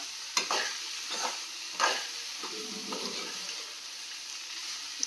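Okra sautéing in a pan with salt, a steady soft sizzle broken by a few scraping stirs of a spoon, close and alone with no voices.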